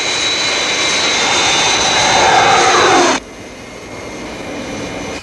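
Airplane engine on a landing approach in a 1966 Thunderbirds puppet series episode, a loud sustained jet-like whine and roar that cuts abruptly to a quieter, steady engine drone partway through.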